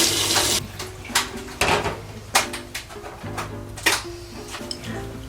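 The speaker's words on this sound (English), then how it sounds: "I changed out the water and the vase" Tap water runs while the water in a flower vase is changed, a gushing stream followed by splashes and intermittent trickles and clinks, close by, with no talking.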